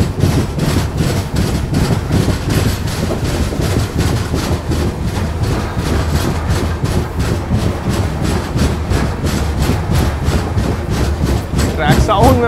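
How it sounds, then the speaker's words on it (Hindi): Garib Rath Express 12257 (Bangalore–Kochuveli) running along the track in Kerala, with a loud, steady rumble and a rapid, continuous clickety-clack of wheels over rail joints, heard close from on board. "ट्रैक साउंड में मजा आ गया आज।"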